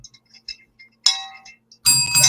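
Handheld bells ring in two bursts, a bright single ding followed by a fuller, brassier jangle near the end, with faint small tinkles before them and no voices.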